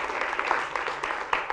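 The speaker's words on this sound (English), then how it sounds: "So you can give my people here a big clap." Brief burst of audience applause at a talk on technology and the gender gap, a dense crowd of clapping hands at moderate volume with no voices over it.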